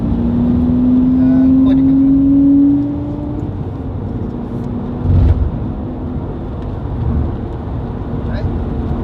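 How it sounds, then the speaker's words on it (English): A Lamborghini Murcielago supercar driven through Kuala Lumpur gives a steady, close engine drone from inside the cabin. A rising tone swells over the first few seconds, then eases back to an even rumble. "I found myself driving Murcielago."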